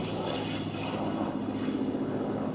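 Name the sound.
Vought Corsair cranked-wing fighter aircraft flying at airshow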